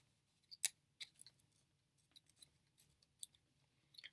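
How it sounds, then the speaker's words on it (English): Scissors cutting curved lines through a paper triangle, a series of close, crisp snips and scrapes in irregular bursts separated by short quiet gaps. "So I'm going to cut them in kind of weird curves."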